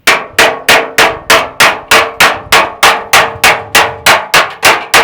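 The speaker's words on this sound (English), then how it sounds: "I've got a piece of wood there and just a little engineer's hammer." A small engineer's hammer taps a car body dent over a block of wood, about fourteen sharp, evenly spaced strikes in a steady rhythm, loud and close with no talk.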